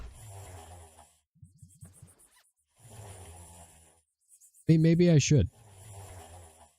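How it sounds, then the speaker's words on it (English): Cartoonish snoring from sleeping characters in the space-station management game Meeple Station, a few short rhythmic snore bursts mixed with game sounds and someone talking, including one loud squeaky snort near the end. "That snoring sound effect is is a little less than satisfying, I would say."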